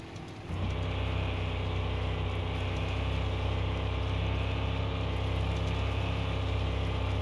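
A truck engine in the video game Mon Bazou kicks in after a brief quieter moment, then settles into a steady, loud, droning run with a low rumbling hum.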